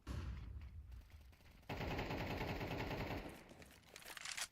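AK rifle fire in a competitive video game match, a rapid sustained burst of gunshots lasting a couple of seconds, preceded and followed by quieter in-game noise and clicks.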